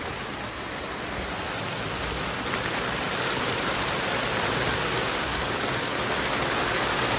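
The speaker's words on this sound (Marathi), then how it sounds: "लय पाऊस आहे" Heavy rain pours down in a continuous, dense hiss, steady and loud throughout with no voices.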